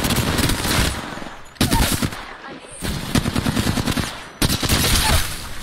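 Rapid automatic gunfire from the Apex Legends video game comes in loud, dense bursts that are separated by brief gaps, with the shooting close and heavy throughout.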